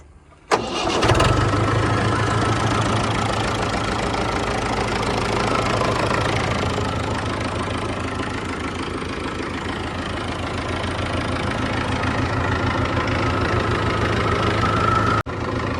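A Mahindra 475 DI tractor's diesel engine cranks and catches, then settles into a steady, loud, close idle with a knocking rhythm for over ten seconds before cutting off abruptly near the end.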